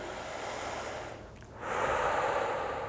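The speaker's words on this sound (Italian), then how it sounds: "Prendo l'aria dal naso" A person draws a slow, audible breath in through the nose during a relaxation breathing exercise, a soft hiss that swells into a louder, fuller inhale, close and alone.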